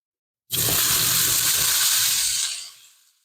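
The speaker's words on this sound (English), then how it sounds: "Again, a nice sizzle there." Corned beef hash with onion, beef tallow and Worcestershire sauce drops into a hot pan and sizzles loudly all at once, a dense close crackling hiss that holds steady for about two seconds, then fades.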